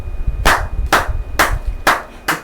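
Five sharp, evenly spaced claps ring out close and loud, each followed by a short decay, with a low rumble in the gaps between them.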